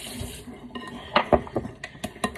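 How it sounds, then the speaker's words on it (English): A spoon clinks and scrapes around a bowl while batter is stirred at home, several close, light taps and scrapes in an uneven rhythm with faint background noise. "I'm stirring"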